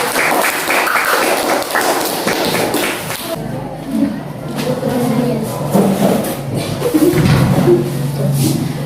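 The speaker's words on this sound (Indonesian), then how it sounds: "Tepuk tangan dulu untuk kelompok" A class gives applause to a student group during a classroom teaching-practice lesson: a dense burst of clapping lasts about three seconds, then gives way to a murmur of voices and scattered noises.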